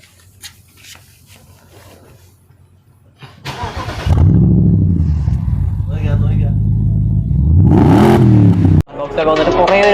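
A car's 4.4-litre twin-turbo V8 engine revs loudly close to the exhaust, with rising and falling roars after a stretch of talking at the start.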